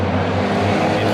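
A green exotic V12 car at a large Texas car meet, its engine roaring loudly and steadily up close with a strong low drone.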